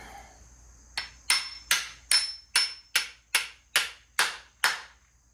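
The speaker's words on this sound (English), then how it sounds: "Grab a hammer. Give this a little talking to." Ten sharp hammer strikes ring out in a steady rhythm after a brief pause, each blow loud and close with a quick metallic decay.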